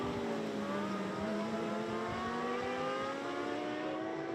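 A racing sidecar outfit at the Imatranajo road race roars past, its engine note climbing steadily through the gears in a continuous, loud drone with no break.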